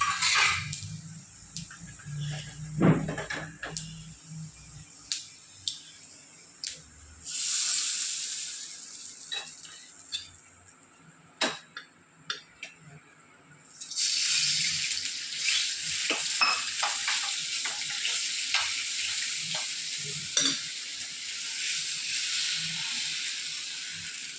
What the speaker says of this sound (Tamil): ஜீரகம் பொரிச்சோம்னா அதை எடுத்து ஊற்றிருக்கேன்